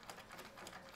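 A sewing machine stitches a quilted table runner with a blanket stitch, giving a brief, faint, rapid rhythmic chatter.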